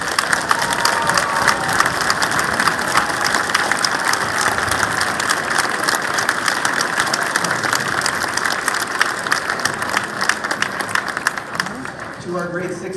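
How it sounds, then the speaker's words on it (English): Sustained applause from a school crowd of students clapping for their teachers at a year-end awards event, steady and dense throughout with scattered cheers, tapering slightly at the end. "Students, can we please give your teachers a big round of applause?"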